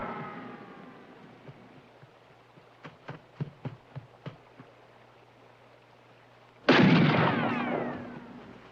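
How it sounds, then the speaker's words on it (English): Gunfire in a 1970s western shootout: a rapid cluster of sharp shots cracks out in the middle distance, then a sudden loud, sustained roar of commotion and noise swells in and carries to the end. "Why are they shooting?"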